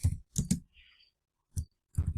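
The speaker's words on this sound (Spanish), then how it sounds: "vamos a dar doble clic y a escribir adentro" A computer mouse clicks in a few crisp, close taps: a quick cluster, a pause, then another double click and a short burst, with a faint whir between them.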